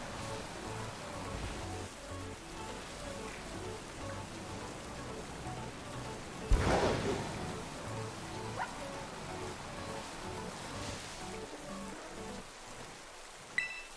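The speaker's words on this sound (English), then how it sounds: "I really wish this rain would end already." Steady rain falls on surfaces with a soft, even patter throughout, broken by a sharper knock midway and another near the end.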